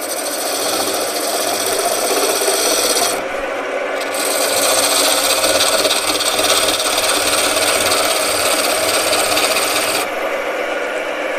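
A skew chisel taking a peeling cut on a wood lathe to form a tenon on a spinning wooden sphere box blank, a continuous bright scraping rasp over the motor's hum, breaking off briefly twice.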